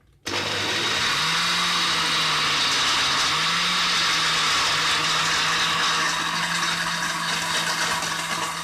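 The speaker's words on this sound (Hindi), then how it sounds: "अब इसे ग्राइंड कर लेंगे।" An electric blender grinds a banana and papaya milkshake with milk and ice cubes, starting abruptly after a brief quiet moment and then running as a loud, steady, high-pitched whir with a droning motor hum throughout.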